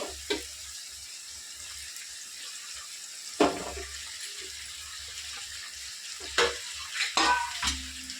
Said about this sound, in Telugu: చేపలు వేపించుకున్న తర్వాత ఒక్కసారి కలిపేసుకుందామండి